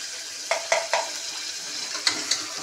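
Curry sautéing in a pan with potatoes about to go in, steady soft sizzling broken by several crisp spoon scrapes and taps against the pan.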